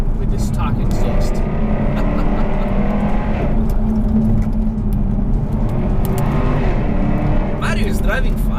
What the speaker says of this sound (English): wondering how Jaguar managed to make this exhaust strict legal